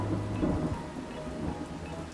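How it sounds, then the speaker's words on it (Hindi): Heavy rain with wind and a low rumble of thunder, a stormy night sound effect, steady and dense throughout with no voices. "एक रात की बात है जब ज़ोरों से हवा चलने लगी और साथ ही साथ ज़ोरों से बारिश होने लगी।"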